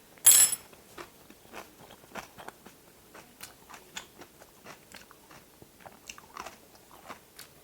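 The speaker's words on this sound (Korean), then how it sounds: "마지막은요, 김치를 얹어서 한번 먹어보겠습니다." Rice topped with kimchi is eaten close up: one loud crunchy bite, then a steady run of moist chewing and soft crunching, with no talk.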